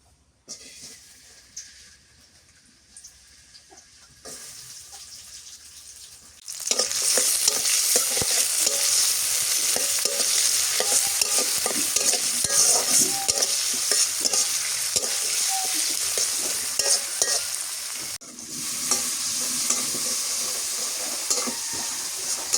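Green chilies and onions hit hot soybean oil in a pan, a loud burst of sizzling that starts abruptly and continues with stirring scrapes, then drops back near the end.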